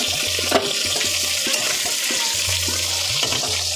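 Koi fish frying lightly in hot oil, a continuous bubbling sizzle, close and fairly loud, with a few soft spatters and no talking.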